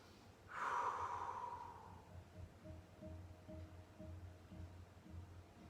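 A single long breath out during a stretching workout comes close and fairly loud as a rushing exhale, then trails off into quieter low background noise.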